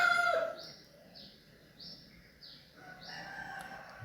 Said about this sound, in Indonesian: ada suara jago-jago lagi membangunkan orang